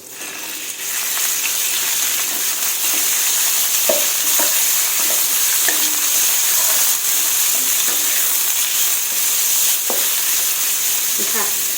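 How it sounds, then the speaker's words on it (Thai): Pork belly stir-fried in a pan with golden garlic for a Chinese cabbage stir-fry: a steady, close sizzle of hot oil with scattered spatula scrapes and clicks, no talking. "หลังจากนั้นใส่หมูลงไปผัด"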